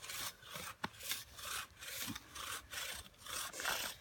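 A bow drill spindle rubs back and forth on wood to make fire, giving close, rhythmic rasping strokes about every half second, steady and fairly quiet, with one sharp knock partway through.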